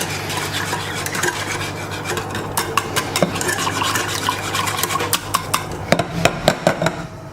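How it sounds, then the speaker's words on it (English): A whisk beats cornstarch into a pot of Italian hot chocolate. Rapid metallic ticking and scraping strokes are heard up close, and they grow sharper and more clattery toward the end. "I'm going to whisk in that cornstarch"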